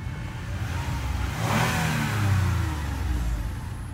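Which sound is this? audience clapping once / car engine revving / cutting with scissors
car engine revving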